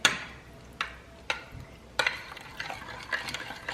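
A spoon stirs a baked macaroni and cheese mixture made from scratch, scraping the pot in a few sharp, close strokes at uneven intervals, with soft wet shuffling in between and no talking.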